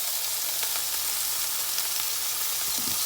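Bacon, Spam, cabbage and onion sizzle and fry in a pan for ramen, a steady, loud crackling hiss with a few sharper pops throughout.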